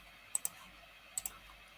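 Mouse clicks in Roblox Studio: two quick pairs of small, faint clicks separated by a short pause, over a quiet background hum.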